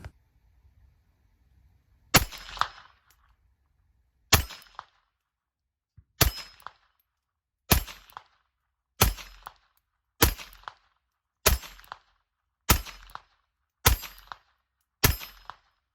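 Ten sharp gunshots from a Ruger LCP II .22LR pistol firing Winchester Varmint ammunition, spaced about every one to two seconds, each a loud crack with a short outdoor ring, after a quiet start with no talking.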